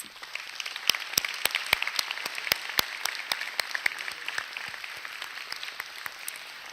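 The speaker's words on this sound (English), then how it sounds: "Let's have a round of applause." A school alumni event audience applauds steadily, with crisp individual claps standing out in a continuous patter that carries on throughout.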